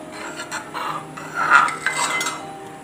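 A spoon stirs milky green gram payasam in a metal pot, scraping and clinking against the sides in uneven bursts, close and moderately loud with no talking.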